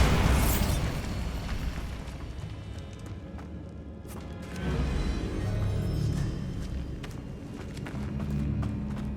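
A Bombarda blasting spell going off in the video game Hogwarts Legacy: a sharp burst at the start followed by rolling, rumbling explosive noise that swells again midway, with no voices.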